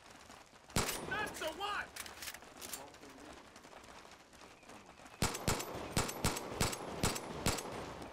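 Several sharp gunshots from a weapon in Far Cry 5 crack out, with a loose burst near the start and then a faster run of close, loud shots toward the end. People talk briefly between the shots.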